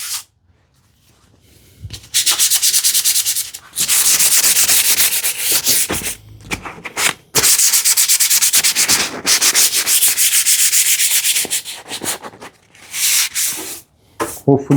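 Worn-out sandpaper rubbed by hand across wood, long bursts of scratchy hissing strokes close by, separated by short pauses, repeating several times.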